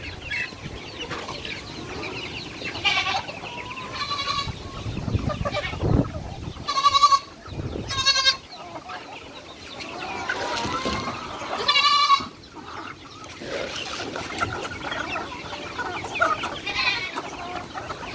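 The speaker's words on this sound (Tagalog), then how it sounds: "Ito yung kambing natin guys." A goat named Digong bleats in short bursts alongside clucking chickens on a farm at feeding time, with crack corn being handed out; the calls stand out clearly over a steady background of fowl noise.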